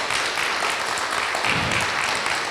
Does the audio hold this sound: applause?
yes